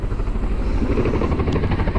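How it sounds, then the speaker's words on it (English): Army helicopters flying overhead above a fishing pond, producing a loud, continuous rotor thumping and rumble with no voices. "Got some helicopters flying over."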